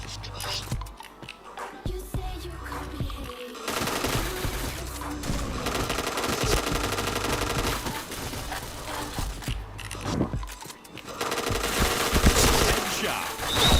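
Rapid bursts of automatic gunfire from the online shooter Point Blank, dense and sustained across the whole stretch with a few brief lulls, with faint voices underneath.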